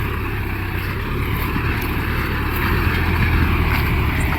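A Mahindra Arjun 4x4 CRDI tractor engine pulls a plough in a field, a loud, steady droning roar that holds constant throughout with no voices.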